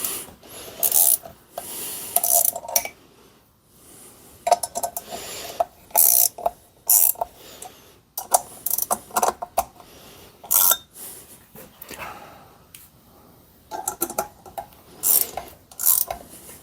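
A makeshift press is ratcheted down on an engine harmonic balancer during rubber ring replacement, giving repeated short bursts of metallic clicking and grinding separated by pauses, close and fairly loud.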